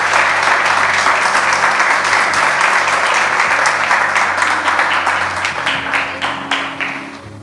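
Church congregation giving a sustained round of applause at a Spanish-language service, dense loud clapping throughout that gradually thins and tapers off toward the end.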